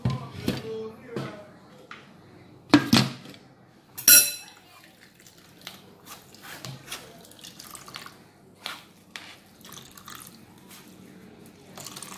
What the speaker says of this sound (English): going to sieve this out